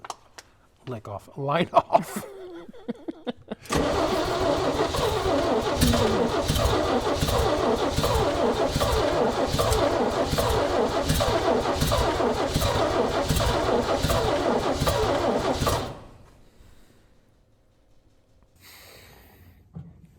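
A 1965 Chevy engine is cranked on the starter, giving a steady, rapid rhythmic churning for about twelve seconds without catching. Brief clanks come before it, and the sound then cuts off into quiet.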